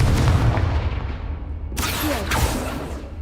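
Confringo spell blast in Hogwarts Legacy: a loud, booming explosive burst with a rumbling tail, then a second sharp crack with scattered debris after it. No voice is heard.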